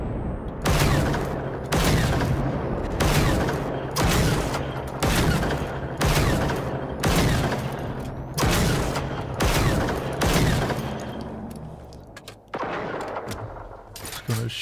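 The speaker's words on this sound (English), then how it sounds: "He's gonna shoot us. I hear the mines." In the Generation Zero video game, a hostile robot fires explosive mines, producing a loud, evenly spaced series of heavy booming blasts, roughly one per second, before fading into quieter rumble.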